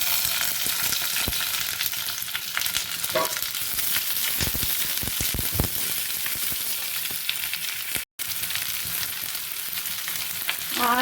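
Chopped onions sizzle and fry steadily in a hot pan for an Kerala-style egg curry, a dense continuous crackle with a few stirring scrapes and a brief dropout near the end.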